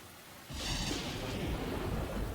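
A loud rumble of thunder rolls in over a dense, steady wash of heavy rain, close and continuous with no voices.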